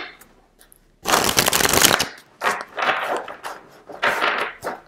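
A tarot card pulled from the deck gives a burst of papery shuffling and sliding, loud for about a second, followed by several softer rustling handling sounds close by.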